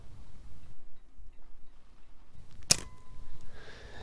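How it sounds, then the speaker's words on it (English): A single sharp mechanical click from a Nikon EM film camera shutter firing in a quiet room, one brief snap with faint ringing after it. "if I dim the lights, the shutter remains open for much longer than 1 second"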